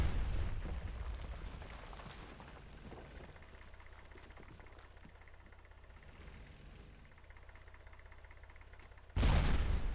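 Explosions and battle noise in the World War II shooter Brothers in Arms: Road to Hill 30, with a heavy blast at the start, then a sustained rumbling din, and another loud burst near the end.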